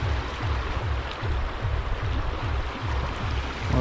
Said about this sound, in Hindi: ये पानी की जो आवाज़ है ये काफ़ी अच्छा लग रहा है यहाँ पे